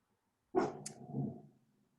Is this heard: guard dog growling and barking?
yes